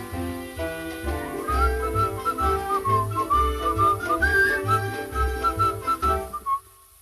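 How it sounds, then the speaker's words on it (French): A person whistles a lilting melody over a soft backing accompaniment on a 1951 Decca 78 rpm record, clear and close, the tune rising and falling before fading out. "Tu pourrais pas siffler autre chose, dis"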